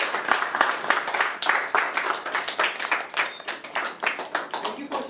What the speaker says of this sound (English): You should have an applause for that.